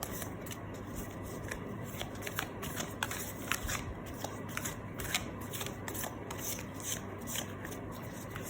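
Tarot cards being shuffled by hand, a continuous close papery riffling and rubbing with rhythmic flicks throughout, no talk.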